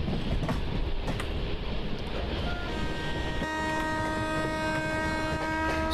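Digha-Howrah Super AC Express train picking up speed on the main line near Howrah, a loud continuous rumble of wheels and rails with a sustained horn-like tone entering partway through.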